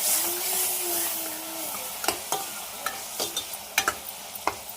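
A spoon stirs tomato curry seasoned with rock salt and turmeric in a pan, faint sizzling running underneath, then sharp intermittent scrapes and clicks against the metal.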